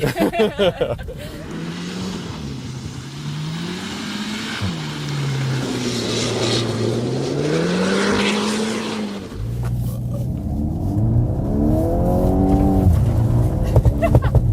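A VW Golf R 20th anniversary edition drives and drifts around a roundabout, its engine droning and rising in pitch with revs, then climbing harder near the end while voices speak faintly underneath.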